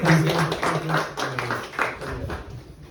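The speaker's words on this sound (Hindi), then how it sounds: "Big round of applause for Rajan." An audience claps steadily for a performer named Rajan, with rapid overlapping hand claps lasting a few seconds while a voice carries on over them.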